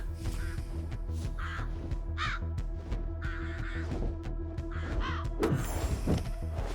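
Crows caw repeatedly in a video game, rising harsh calls in quick bursts over a busy backdrop of game music and effects, growing denser toward the end.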